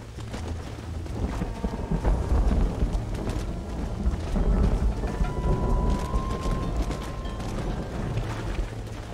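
Thunderstorm with rain in the video game Red Dead Redemption: a dense, loud wash of rain and low rumbling thunder with some wind buffeting, continuous throughout and without voices.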